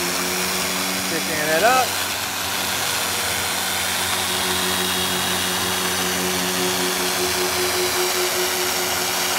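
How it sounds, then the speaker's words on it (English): A power polisher whirs steadily on car paint during wet sanding to remove orange peel, a constant mid-pitched motor drone running throughout while someone talks briefly over it. "turning my polisher down, spreading my product out"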